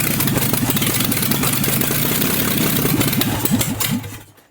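A V12 engine in a speedster project car cranks with rapid stuttering pulses and catches into a rough, loud running rumble, then cuts out abruptly after about four seconds.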